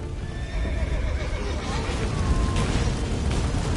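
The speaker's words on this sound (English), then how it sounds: "Grab the horse. We'll save time." A horse whinnies loudly in The Witcher 3 over a low rumbling background, with hoof clatter mixed in.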